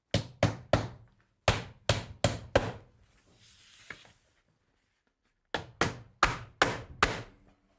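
Hammer blows drive 1¼-inch galvanized roofing nails through drip edge into a fascia board: sharp, close strikes in quick runs of three or four, a short pause with faint hiss, then a longer run of seven blows.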